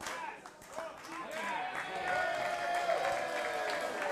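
Wrestling crowd at a VxS American Wasteland match chanting in unison for Nick Wayne and Rich Swan, a steady rhythmic roar of many voices building and holding across the clip, with commentary talk mixed in.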